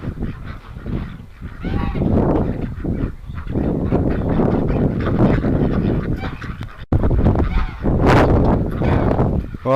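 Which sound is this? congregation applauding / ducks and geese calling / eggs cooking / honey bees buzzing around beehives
ducks and geese calling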